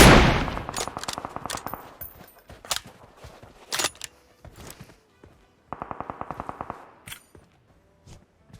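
PUBG Mobile gunfire crackles in repeated bursts, loud automatic rattles at the start and again later, separated by sharp single shots and quieter gaps with faint in-game movement sounds.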